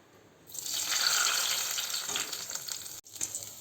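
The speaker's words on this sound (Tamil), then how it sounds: "இப்போ வந்து மேலே வந்து கருவேப்பிலை போட்டு அப்படியே வந்து எண்ணெயை எடுத்து ஊற்றிக்கலாம்." Hot coconut oil tempering with curry leaves in a pan gives a loud, steady sizzle and crackle that fades slightly, then a brief pause and a short renewed burst near the end.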